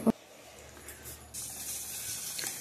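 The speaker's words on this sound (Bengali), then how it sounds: "এবার চালটা ধুয়ে নিচ্ছি" Tap water running while rice is washed at a sink, a soft steady rush of flowing water that starts partway through after a brief knock, fairly quiet throughout.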